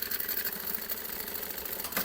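Sewing machine stitching fabric for a maternity bag, a quiet, rapid mechanical whir with fine, even ticking, running continuously for a moment.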